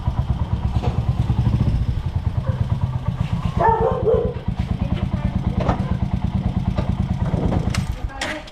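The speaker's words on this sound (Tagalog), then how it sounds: "Ah, yung aso pala." A dog barks in short bursts at a house gate, heard over the steady chug of an idling motorcycle and people chatting nearby.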